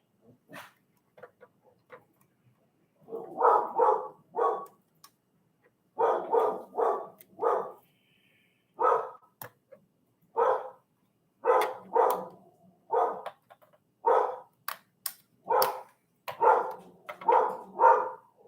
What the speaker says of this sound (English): my dog found something else to bark at